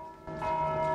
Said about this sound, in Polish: Co za dzwony?